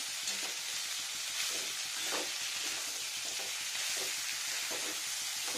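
Bottle gourd stems with soybean chunks frying in oil in a pan, a steady faint sizzle broken by periodic soft scraping stirs, with no talking.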